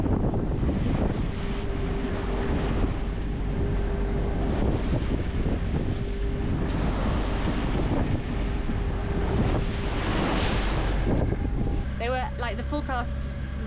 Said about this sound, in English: I've got some footage of the waves